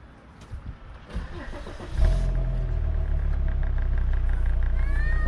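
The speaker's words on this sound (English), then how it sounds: "I'm going to have to start the engine, see which way it goes." A 2003 Volvo XC90 engine cranks briefly, then catches at about two seconds and settles into a loud, steady idle close by.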